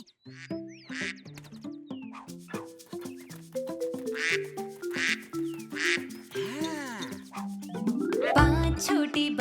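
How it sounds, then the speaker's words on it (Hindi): Repeated quacking calls in a bouncy, tuneful rhythm over a musical backing, ending with a louder burst. "मम्मी बतख बोली क्वाक क्वाक क्वाक क्वाक"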